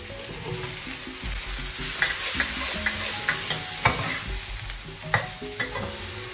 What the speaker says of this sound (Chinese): 先给它炸香了